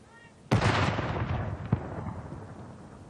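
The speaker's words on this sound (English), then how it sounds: "the bearer party paused as a field gun signalled the start of a 1-minute silence" A single field gun firing at a royal funeral at Windsor to signal a minute's silence: one sharp, loud outdoor boom followed by a long rolling echo and a faint later report.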